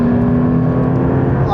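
A Porsche 911 Turbo S engine pulls hard with a steady, droning roar beneath someone talking close by.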